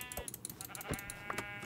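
A sheep in the Minecraft video game bleats a couple of short, faint calls close by.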